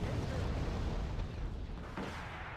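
Stinger C missiles shooting down Mi-24 helicopters in the strategy game Wargame: Red Dragon, a dense, rumbling roar of explosions and launches that is loudest at first and eases slightly, with a voice speaking over it.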